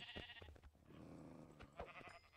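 A sheep bleats in Minecraft, with one wavering, nasal call in the middle of the clip and some short clicks and game sounds around it, fairly faint overall.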